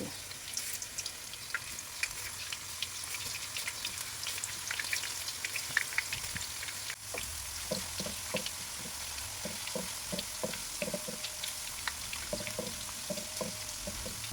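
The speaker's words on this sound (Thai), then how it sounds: "น้ำมันร้อนแล้วนะคะ เราจะใช้ที่ปอกผลไม้แบบนี้ ค่อยๆใส่ กล้วยนะคะ ให้เป็นแผ่น ใส่ลงไปเลย" Raw banana slices frying in hot oil give a quiet, steady sizzle with scattered pops and crackles, plus soft clinks and stirring sounds in the second half.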